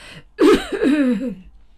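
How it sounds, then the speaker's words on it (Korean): An old man coughs painfully in a short audiobook sound effect: one harsh, strained cough followed by a rough, wavering throat-clearing rasp, close and loud, with no speech. "한 노인이 고통스럽게 기침을 하며 말했습니다"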